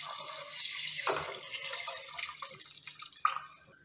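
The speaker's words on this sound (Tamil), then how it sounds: "2 டம்ளர் அளவுக்கு தண்ணி சேர்த்துக்க போகிறேன்." Water poured into a pot of rice for ghee rice, a steady splashing pour that runs for several seconds and then trails off into a few drips, close and clear with no talking.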